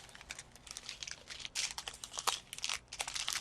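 Packaging being folded back, a close, continuous crinkling and crunching of thin plastic or paper in irregular bursts during an unboxing of a Lovers Stroll DAC kit.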